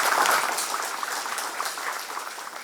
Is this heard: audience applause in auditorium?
yes